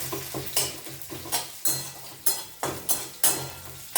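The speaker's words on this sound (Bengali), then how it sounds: "মুগের ডালটা যখন লাল লাল ভাজা হবে তখন আমার পরিমাণ মতো চাল কুমড়োটা দিয়ে দেবো" Mung dal fries in a pan while a spoon stirs it in regular strokes, each stroke bringing a burst of sizzle and scraping, repeated about eight times over a steady hiss.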